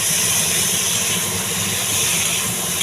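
Spice paste hitting a hot pan with fried potato and fish head, giving a loud, continuous hiss and sizzle that holds steady and close.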